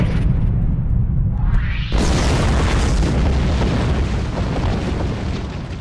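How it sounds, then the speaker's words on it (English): A starship blows up in the Star Trek Online game, a deep continuous booming roar that swells sharply after a brief rising lead-in and rumbles on loudly for several seconds. "take us out of range of the explosion"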